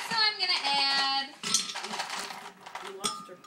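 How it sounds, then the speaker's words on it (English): Ice cubes dropped into a blender jar for a Shakeology shake: a burst of bright clinks and rattles, then scattered clatter and settling knocks, fairly close with a quiet background. "First, I'm going to start with some ice."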